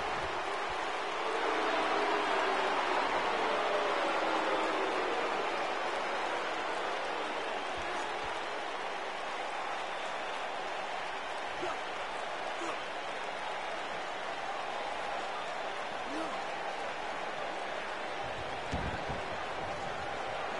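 A sold-out arena crowd in the wrestling video game WWE 2K19 keeps up a broad, steady roar of cheering and applause, loudest early on and then holding at a constant level throughout.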